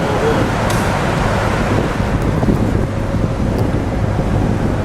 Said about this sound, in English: That feels good with a little wind.